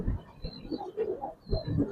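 Giribaz and racer pigeons coo softly in a loft, low throaty murmurs repeating in short overlapping phrases, close by and fairly quiet.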